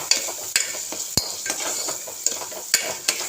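Beef sautéing in a pan with turmeric and garam masala for a Kerala-style roast, a steady sizzle broken by sharp scrapes and taps of a spoon stirring against the pan, close up.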